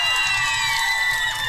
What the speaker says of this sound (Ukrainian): Ваші оплески найактивнішим вболівальникам Херсона.